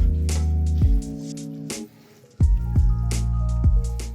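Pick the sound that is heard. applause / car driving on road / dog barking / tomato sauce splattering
tomato sauce splattering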